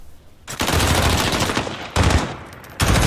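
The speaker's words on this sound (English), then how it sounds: "Exchange of shots." Gunfire exchanged in a 1v1 Gunfight video game match, loud rapid bursts of shots in three clusters, the first lasting well over a second, the others shorter and abrupt.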